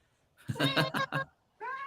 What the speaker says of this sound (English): Oh, kitty time.